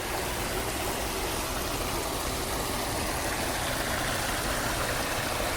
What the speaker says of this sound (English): This is the pumping that's going on that was feeding into the creek.